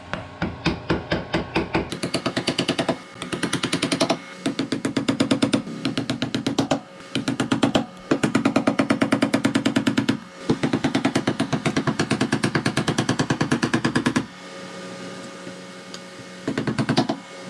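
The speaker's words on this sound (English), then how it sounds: "Now I'll go ahead and use my flathead screwdriver to try to get it right between the axle and the seal here. And I'll give it a couple taps" Rapid, loud metallic tapping of a hammer on a flathead screwdriver wedged between a Kubota BX front axle and its leaking seal, coming in steady bursts separated by brief pauses, close up with no talking.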